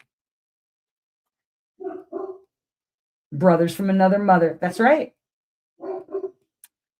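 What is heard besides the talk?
dog barking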